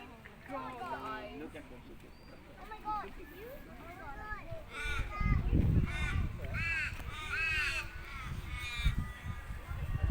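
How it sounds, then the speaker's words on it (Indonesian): Loud, harsh crow caws repeat in noisy bursts, with a voice and other chatter mixed in beneath. "Gagak nih ributnya."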